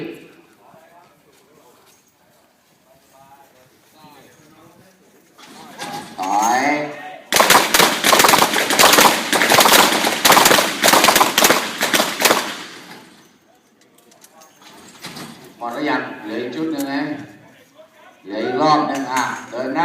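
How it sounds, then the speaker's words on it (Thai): A burst of rapid, loud gunshots rings out during a defensive-shooting drill with six rounds fired on the move, then fades into quieter background noise and voices. "เป็นการเคลื่อนที่ออก ประกอบการยิง 6 นัด 7 วินาทีนะครับ"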